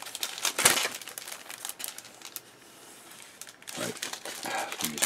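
A crinkly resealable plastic bag from a Meng 1/35 Panther Ausf.A Early model kit is handled and opened close up, in crackling bursts separated by a quieter pause.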